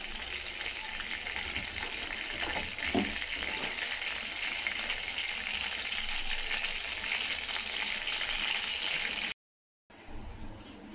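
Oil heats in a pan on a high gas flame while okra curry is being made, a steady close sizzle and crackle that runs continuously, cutting out briefly near the end before resuming.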